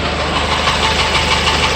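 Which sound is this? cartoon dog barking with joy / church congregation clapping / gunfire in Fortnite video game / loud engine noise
loud engine noise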